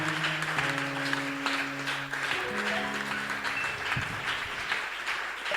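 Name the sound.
church congregation applauding the Lord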